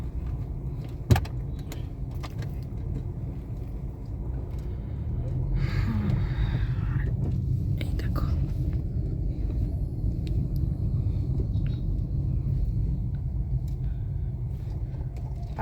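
A car drives slowly into a parking spot near a temple complex, its engine a steady low rumble throughout, with a sharp click early on and the noise growing slightly fuller partway through.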